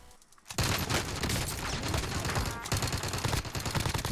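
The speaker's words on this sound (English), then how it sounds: "There's another team that was shooting at us." Heavy gunfire from another team in Call of Duty Warzone erupts suddenly and continues as a dense, loud, rapid fusillade of automatic shots for several seconds.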